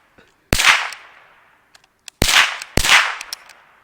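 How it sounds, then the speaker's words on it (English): A .22 LR rifle fires three sharp, loud shots, one alone and then two in quick succession, each followed by a short ringing decay. "Okay, continue rapid firing."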